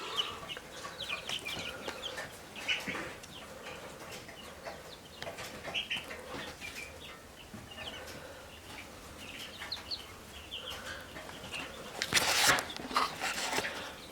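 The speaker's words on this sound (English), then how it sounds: "They're pullets right now." Young chicken pullets in a brooder clucking and peeping in scattered bursts, with occasional wing flaps and a louder flurry of flapping near the end, heard close and without people talking.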